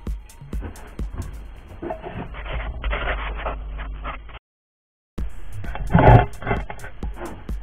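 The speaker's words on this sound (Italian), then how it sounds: "adesso metteremo sulla morsa e vi farò vedere con il seghetto come viene" A metal-cutting hacksaw rasps through a piece of wood clamped in a vise while toy train track is being made, with steady back-and-forth strokes close up and a brief break midway.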